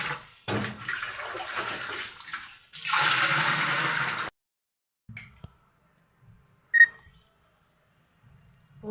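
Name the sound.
water filling a clay pot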